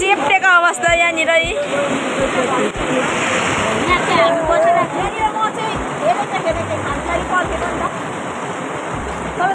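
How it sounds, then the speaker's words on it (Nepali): Heavy, frightening rain pours down with a dense rushing splash and splatter that continues throughout, while people talk over it up close. "यस्तो डरलाग्दो पानी परिरहेको छ"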